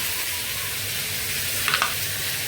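Eggplant and potato frying lightly in oil, a steady soft sizzle running throughout with a brief scrape or stir near the end.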